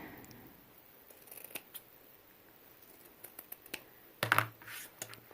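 Scissors trimming excess fabric at the corners and seam edges of a quilted zippered throw pillow: a few sparse, crisp snips and clicks, close and fairly quiet, with one louder cluster near the end against a hushed room.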